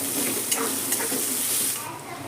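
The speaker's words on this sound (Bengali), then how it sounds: "পেঁয়াজ আর রসুনটা খুব ভালো করে প্রথমে ফ্রাই করে নেব" Chopped onions and garlic fry steadily in a pan, giving a continuous bright sizzle with a few soft stirring scrapes, close up and without talk.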